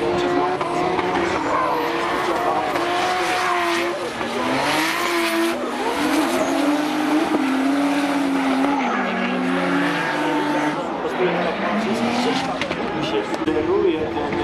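A semi-pro class drift car slides through a run at Tor Poznań during a competition battle, its engine revving and tires squealing continuously at a distance, with a commentator talking over it throughout.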